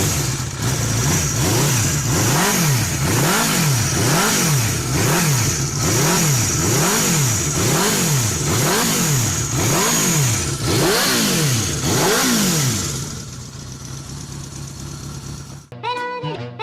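A 1990s production motorcycle with a tiny 231cc four-cylinder engine revs hard, rising and falling in quick, even cycles, loud and close, before cutting off abruptly near the end.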